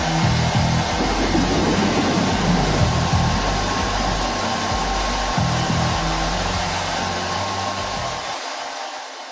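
A hair dryer blows loud and steady throughout with a broad rushing hiss, its airflow wavering slightly, then cutting off abruptly near the end.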